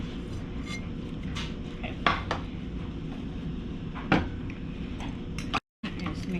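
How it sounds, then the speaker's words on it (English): Chicken and other ingredients being stirred together in a dish, with scattered clinks and knocks of a utensil against the dish over steady kitchen background noise. "Get it combined in the dish."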